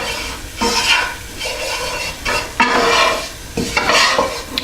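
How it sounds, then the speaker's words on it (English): Flour is stirred into a sizzling sauce in a pan to make a roux for spaghetti and meatballs, with repeated scraping strokes in an uneven rhythm over a constant close frying hiss. "So basically just making a roux with this"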